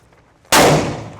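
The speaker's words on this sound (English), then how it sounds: "So let's do 10 shots, 10 yards, and see how that looks." A single sharp, loud Draco pistol gunshot cracks out at close range at an outdoor shooting range, followed by a decaying ring.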